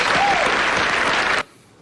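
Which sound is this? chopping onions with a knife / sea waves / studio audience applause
studio audience applause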